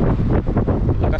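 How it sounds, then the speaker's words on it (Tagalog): Strong wind buffets the microphone during a bicycle ride near Al Mousa Park, a steady broadband roar with gusty surges that continues throughout the short stretch. "ang lakas ng hangin"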